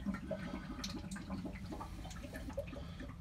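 Water rushes out through a hose after the pressure release valve on a mobile home's water heater is opened, a faint, steady gurgling flow with small irregular splashes and drips continuing throughout.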